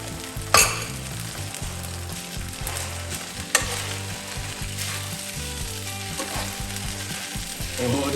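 Beef stir fry with onions and mushrooms sizzling hard in a hot pan, a dense continuous crackle broken by a couple of loud metallic knocks and scrapes from stirring, close up and with no talking.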